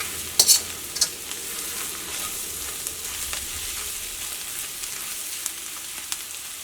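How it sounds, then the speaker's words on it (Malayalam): Coriander powder roasts in a hot pan for an egg masala roast, a soft continuous sizzle with a couple of sharp stirring scrapes near the start. "ഇപ്പോൾ മല്ലിപ്പൊടി അത് കിടന്നിട്ട് നന്നായിട്ട് മുരിഞ്ഞിട്ടുണ്ട്"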